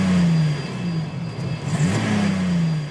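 A BMW engine revs in a short, steady rise and fall of tone, close and fairly loud, with a mechanical whir underneath and no voices.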